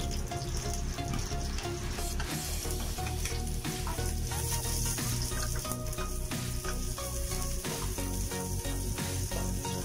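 Garlic fries in a hot pan for a Filipino-style tuna steak dish, giving a dense, steady crackling sizzle close up with faint stirring, and no talk.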